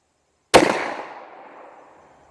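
A single close, loud shot from a Marlin 512 slug gun, a sharp crack followed by a fading echo lasting over a second.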